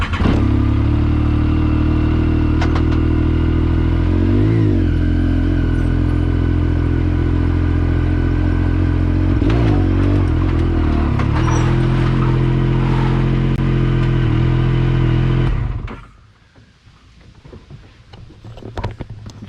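A side-by-side UTV engine runs steady and loud as the vehicle drives onto a utility trailer into its wheel chocks, with clunks along the way, then the engine cuts and leaves faint background noise.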